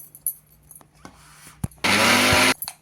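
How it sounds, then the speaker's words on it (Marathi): A kitchen mixer grinder blending spice masala roars loud and close for under a second after some faint clatter and handling knocks, then cuts off abruptly. "आता हे सगळं पुन्हा एकदा मिक्सरमध्ये फिरवून घेऊया, म्हणजे मसाला छान एकजीव होईल।"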